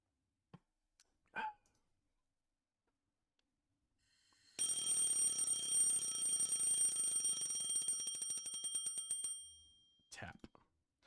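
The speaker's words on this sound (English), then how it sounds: "He has an old-fashioned alarm." An old-fashioned alarm clock rings in the video game Lucy: The Eternity She Wished For, a loud continuous metallic bell clatter lasting about five seconds, framed by brief faint sounds before and after.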